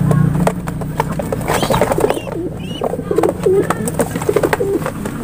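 Pigeons in a training box coo repeatedly and steadily, close by, with soft shuffling and a low hum under the calls.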